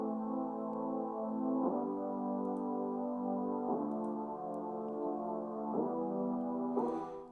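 A glossy synth brass patch from FL Studio's Expand plays with its highs cut, sustained muffled chords changing every couple of seconds, full and warm with a soft high edge at the end.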